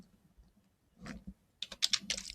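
Typing on a computer keyboard while entering a postal address into an email draft: a sparse few taps at first, then a quick flurry of crisp clicks, close and fairly quiet with no voice.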